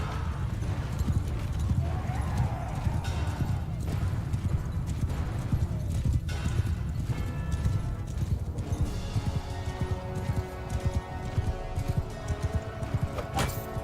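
Horse hooves clip-clopping in the medieval battle game Bannerlord 2, a dense, continuous clatter of many hoofbeats with occasional neighs and clashing battle noise, moderately loud throughout.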